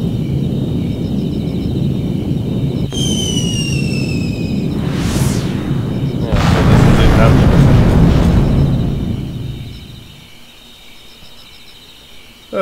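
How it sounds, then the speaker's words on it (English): A muffled explosion booms outside in the video game A Boy And His Blob, a broad roar swelling and then fading over several seconds, set against steady game background sound with a brief rising whistle just before. "Oh, well, there was an explosion outside."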